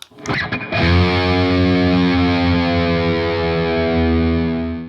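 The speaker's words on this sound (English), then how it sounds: "We all know that classic intro with a big, weird, open string bend." A heavily distorted electric guitar rings out after a few choppy muted hits, sustaining one big open-string bending chord loudly for several seconds, in the style of a classic riff.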